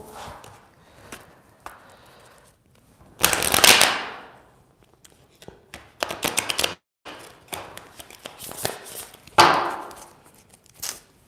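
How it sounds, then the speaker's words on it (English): Tarot cards being shuffled by hand, heard as several bursts of quick riffling and slapping spread across the stretch, with quiet pauses between them and no talking. "All right, last shuffle."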